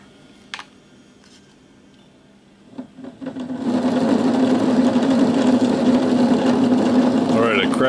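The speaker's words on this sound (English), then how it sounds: "I cracked open the throttle." Maxitrak model locomotive power chassis with electric motors running at low throttle, a steady hum that starts faintly and swells after a few seconds into a sustained whir, near and continuous, with faint background sounds.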